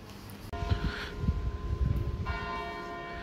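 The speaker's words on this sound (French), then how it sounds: "les cloches sonnent" Church bells ring out loudly in a French town street during a book fair, broad resonant tolls layered over one another with a steady wash of outdoor ambience.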